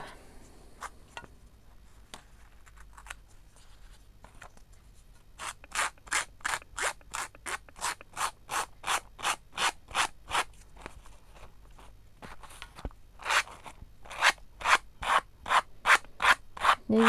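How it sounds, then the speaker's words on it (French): Paper napkin being rubbed firmly off a handmade craft card, close and dry: scattered scrapes at first, then a steady run of quick, evenly spaced rasping strokes that grow louder toward the end. "Plus vous appuierez, plus le papier va s'enlever rapidement sur la carte."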